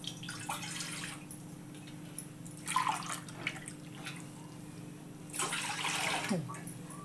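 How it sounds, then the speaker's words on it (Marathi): Water is poured into a pot on a gas stove in a kitchen, heard as three separate splashing pours spread across the clip, close and moderate in level, over a steady low hum. "पाणी ओतते."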